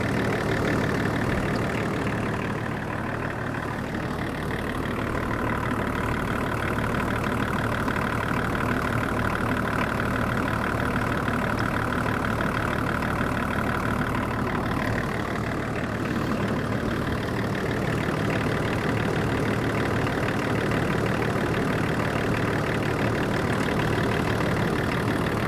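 A Range Rover P38 engine idling after a crank damper repair: a steady, even, close idle hum that runs throughout, with no voices over it.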